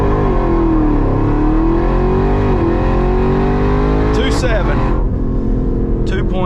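A 900 HP Jeep Trackhawk on new tires and wheels launches hard from a standstill, its engine roaring loud and steady as the pitch climbs through the pull, with a shift-like break and brief spikes near the end.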